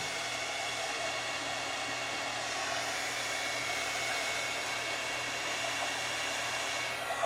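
A hair dryer blows steadily on a wet craft project, a continuous close, even whooshing hiss with no break throughout.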